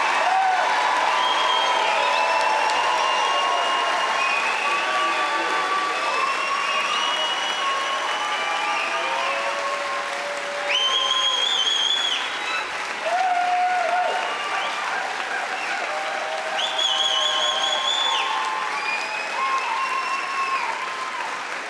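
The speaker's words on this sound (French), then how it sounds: "Applaudissons chaleureusement les nouvelles personnes diplômées au baccalauréat en sciences" Steady, full audience applause fills a Faculty of Science graduation ceremony honouring new bachelor's graduates, with faint cheering and whistles rising now and then over the continuous clapping.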